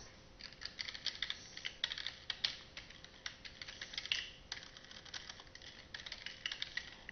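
Someone types a login on a computer keyboard, tapping out quick, irregular clicks up close. The bursts of keystrokes come one after another with short pauses between them, and no voices are heard.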